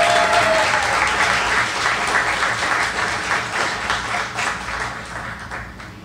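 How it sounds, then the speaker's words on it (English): Audience applause for a Hall of Fame inductee at an ALA induction ceremony, a sustained, dense burst of clapping from a crowd filling the room, steady throughout and tapering slightly toward the end. "let's give a round of applause for Rachel Bauer Day"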